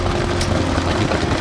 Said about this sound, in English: Just a wonderful engine indeed, and air cooled, so you didn't have to have water cooling for it.